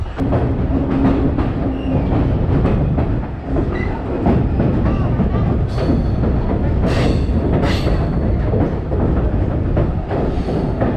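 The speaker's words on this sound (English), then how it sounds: "We are approaching a steel railroad bridge which is very close to the train." A Blue Ridge Scenic Railway train rolls loudly and continuously over a steel railroad bridge near Copperhill, Tennessee, with rhythmic clacking and a few sharp metallic squeals near the end.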